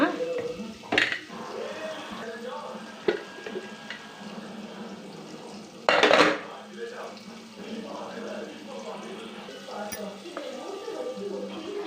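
A pot of cooked bean sambar is opened: a few metallic clanks of the lid and utensils stand out sharply, with a loud clatter near the middle, while a person talks over a quiet kitchen background.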